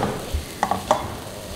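Semolina being stirred and dry-roasted in a pan over a low flame, soft continuous scraping with a few brief louder taps of the spoon, close and fairly quiet.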